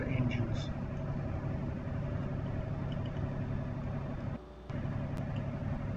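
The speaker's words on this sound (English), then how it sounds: "here I am fiddling with the forward and reverse to make sure that the props are turning forward and reverse on both starboard and port engines" The starboard and port engines of a boat being readied for launch run steadily while the props are shifted between forward and reverse, a continuous low rumbling drone with a brief dip near the end, under a voice talking.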